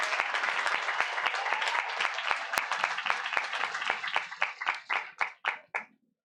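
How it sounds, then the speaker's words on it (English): Audience clapping at a high school graduation ceremony for graduates who are parents, full applause with sharp individual claps that thins out and fades to a few last claps. "Clap it up for them as well"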